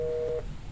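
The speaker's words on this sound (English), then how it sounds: "Leave their phone off the hook." Phone-off-the-hook tone in the horror game They Are Here: a single steady electronic beep lasting under half a second, quiet, followed by faint room hum.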